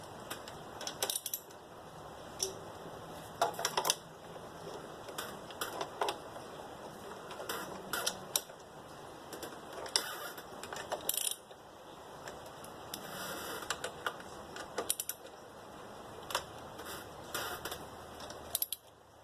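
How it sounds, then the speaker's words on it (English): A small mini ratchet tightens valve cover bolts on a 2004 Mitsubishi engine, giving quick bursts of light metallic clicking that start, pause and resume across opposite corners, close and fairly quiet, with no speech. "I'm just going to use this little mini itty bitty ratchet"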